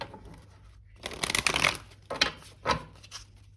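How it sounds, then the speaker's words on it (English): Tarot cards are shuffled in several quick riffling bursts, close and crisp, separated by short pauses. "we will do one last shuffle."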